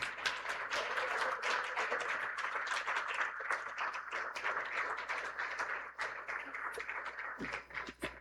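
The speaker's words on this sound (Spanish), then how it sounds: "¿Cuánto dan un aplauso al Señor?" Church congregation applauding for the Lord, a dense, steady wash of many hands clapping throughout, fairly loud and close, with no talk over it.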